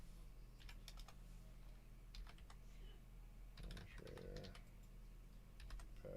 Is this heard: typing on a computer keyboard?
yes